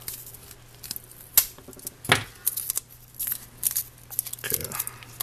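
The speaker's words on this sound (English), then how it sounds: "so let's cut this tape." Several short crisp snips and a sharp rip close by as tape is cut off a Kato SD40-2 model locomotive, scattered between quieter rustling and light handling noises.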